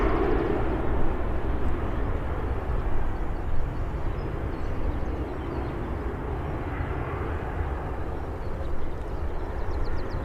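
British Airways airliner at Birmingham airport, a steady broad jet engine roar heard from a distance on the ground, holding fairly even for about ten seconds without talk.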